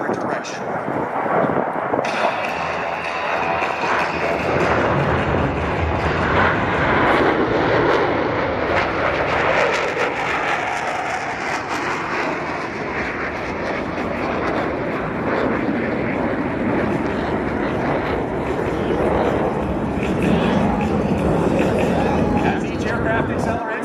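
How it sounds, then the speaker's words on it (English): Military jets roaring past at an air show as they break away in turn, a continuous loud, rumbling jet roar that fills the whole stretch, with an announcer speaking over it. "Each pilot will perform an individual brake turn and exit the flight line in a separate direction."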